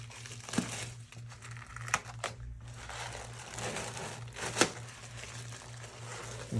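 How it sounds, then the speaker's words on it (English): Close, crisp crinkling and tearing of a thin plastic bag wrapped around a setting orthopedic foot cast, in short irregular rustling bursts. "Tear the plastic bag."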